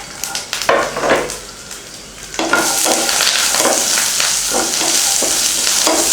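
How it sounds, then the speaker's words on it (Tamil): Chilies, tamarind, garlic, onion, coriander and curry leaves fry in a little oil, first with a few bursts of crackle as they go in, then a steady close sizzle with intermittent stirring scrapes. "அதில் மிளகாய், புளி, பூண்டு, வெங்காயம், மல்லி, கருவேப்பிலை போட்டு வதக்கிக்கலாம்."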